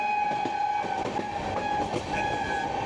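A Gangasagar Express with LHB coaches runs through Barrackpore at about 60 km/h, giving a loud, steady rumble with rhythmic wheel clatter and a sustained tonal whine throughout.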